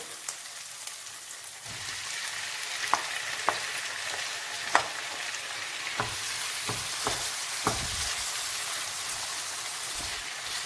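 Onion frying in a pan for a spinach sauce, a constant crackling sizzle like light rain, punctuated by a handful of crisp spatula clicks and taps, close and with no talking.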